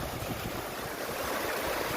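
Flowing stream water at an outdoor bathing spot, a steady broadband rush that holds at an even level for the full two seconds, with no voices.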